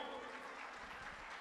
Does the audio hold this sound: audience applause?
yes